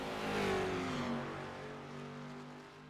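Race cars on the Charlotte Roval accelerating, a loud engine drone with a pitch sweep as a car passes close, then a steady roar fading slightly, with no talk.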